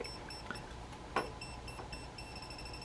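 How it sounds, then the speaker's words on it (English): A TESMEN TCM 300D voltage detector held near the hot side of a cord gives faint, slow, steady beeps at an even pace, quiet over a background hum. "Hear the difference? The slow beep."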